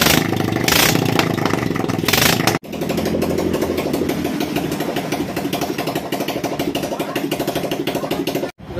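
A 2006 Kawasaki ZX130 motorcycle idles close by with a steady, even putter that cuts out briefly once, then carries on smoothly until it stops near the end, with no voices.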